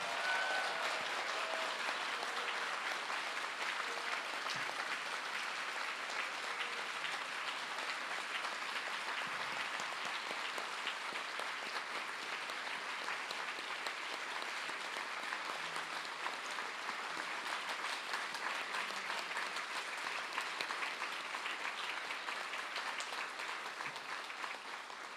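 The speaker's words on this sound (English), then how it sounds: "Can you give a big round of applause to Amma" A symposium audience in Chicago applauds steadily for about twenty-five seconds, a faint, even wash of clapping from a distance that slowly tapers at the end.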